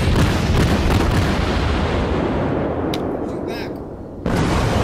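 Naval gunfire from warships in World of Warships: a heavy sustained roar of artillery booms and rumble, loud and close, fading briefly before another blast cuts in.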